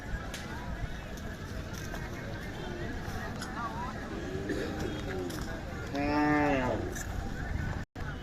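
Khillar cattle at a crowded livestock market in Pandharpur during the Kartiki Ekadashi fair: a long, clear moo rises near the end after a fainter one earlier, over a constant murmur of crowd talk.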